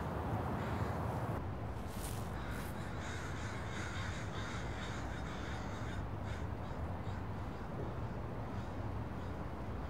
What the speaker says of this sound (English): That's like 30 crows up there.